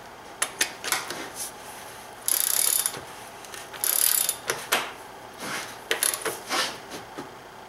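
A ratchet tightens the oil filter housing cap on a BMW E90 3 Series: sharp, close, rapid pawl clicks in quick strokes, with two longer, hissier bursts of fast ratcheting in the middle.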